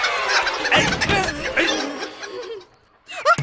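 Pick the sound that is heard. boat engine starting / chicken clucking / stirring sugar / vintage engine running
chicken clucking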